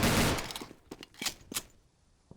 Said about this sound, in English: See how fast I can shoot.